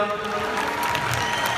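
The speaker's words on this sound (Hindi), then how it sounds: "एक बार जोरदार तालियां प्रतपाल सिंह नेटा" Applause from a concert crowd at a live show in Houston, a steady wash of clapping with crowd noise and faint music tones underneath, filling the whole moment.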